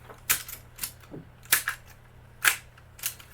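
An Alpage FL-3100 cassette deck's buttons and transport mechanism clack sharply, about six separate mechanical clicks and thunks spaced irregularly over a quiet background hum.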